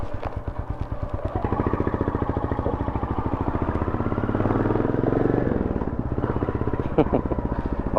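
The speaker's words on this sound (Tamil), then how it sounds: "சைலன்சர் ஸ்டாக்கு தான், ஆனால் பேக் ஃபயர் மாதிரி பண்ணுது." Royal Enfield Goan 350 motorcycle with a stock silencer, its single-cylinder exhaust thumping steadily up close, with irregular pops like backfire breaking through, a brief rev swell midway and a sharp crack near the end.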